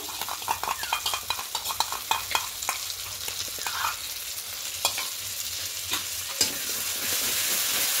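Katla fish curry with sour yogurt sautéing in a pan, a steady close sizzle broken by frequent scraping and stirring strokes of a spatula, with no one speaking.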